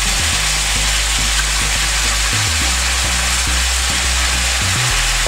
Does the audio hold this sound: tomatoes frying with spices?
yes